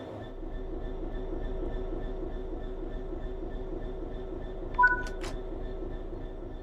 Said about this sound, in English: This is a BR Class 66 diesel-electric locomotive typically used for freight operations in the United Kingdom.